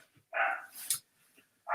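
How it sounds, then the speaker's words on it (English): A dog barks in the background, giving a couple of distinct, moderately faint barks separated by quiet gaps, with another bark starting at the very end. "If you can hear a dog in the background"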